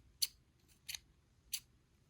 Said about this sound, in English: These scissors are really sharp.